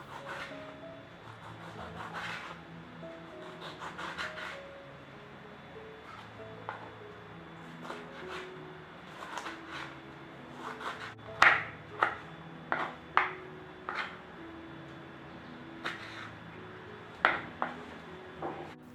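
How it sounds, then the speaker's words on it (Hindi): Knife chopping a tomato on a wooden board in a home kitchen, a run of sharp, irregular taps and scrapes rising in the second half, close and fairly quiet, with no talk. "इसी तरह से एक टमाटर भी चॉप कर लेते हैं।"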